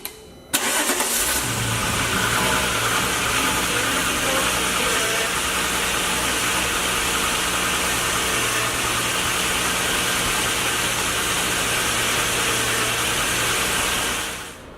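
A Volkswagen car engine cranks and catches, then settles into a steady, even idle that runs close and constant for over ten seconds before cutting off.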